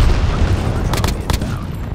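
Airstrike explosions and gunfire in a video game: a dense, continuous rumble of blasts and shots fills the whole stretch, with a couple of sharper bursts standing out midway.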